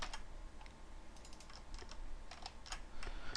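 Rapid irregular clicking of a computer keyboard, typed up close in uneven bursts of keystrokes with brief pauses, alone without talk.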